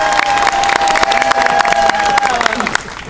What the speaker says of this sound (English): They'll clap for you.